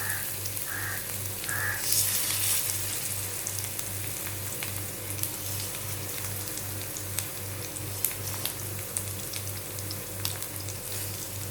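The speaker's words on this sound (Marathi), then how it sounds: "आता हे व्यवस्थित आपल्याला दोन्ही बाजूने फ्राय करून घ्यायचे" Chicken tikka pieces fry in butter in a pan, giving a steady, close sizzle and crackle that runs throughout with no talking.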